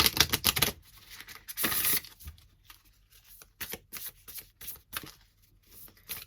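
A deck of cards being shuffled and cut for a tarot-style reading: a dense riffling burst at the start, another near the middle, then scattered soft card slaps and taps, close and quiet with no talking.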